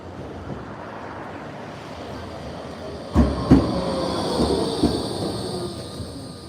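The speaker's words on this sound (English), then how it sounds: "Right, this tram's here now" A tram pulls in and runs along its rails on a city route, with a low rumble, two sharp clunks of wheels over joints, then squeals and clatter as it slows nearby.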